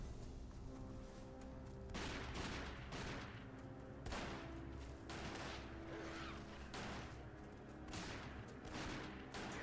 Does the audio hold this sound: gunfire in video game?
yes